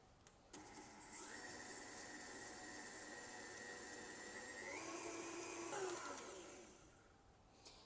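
A steady electric hand mixer whirs at medium speed through chocolate cake batter, a sustained motor hum with a slight pitch lift near the end before it winds down.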